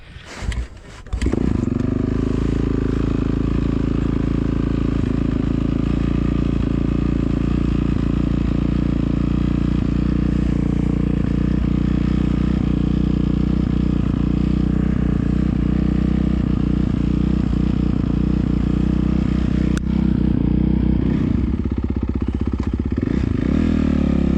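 A motorcycle lapping a private arenacross practice track holds a steady, loud engine drone for the whole stretch after a brief start. The rough, buzzing tone shifts only slightly, and no one speaks over it.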